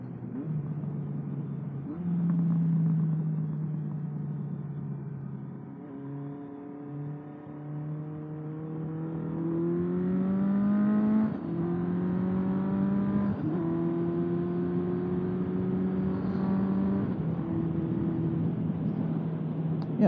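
A 1977 Kawasaki KZ650 motorcycle engine heard while riding, its exhaust note rising and falling through gear changes with climbing revs and shifts, steady and fairly close, no talking.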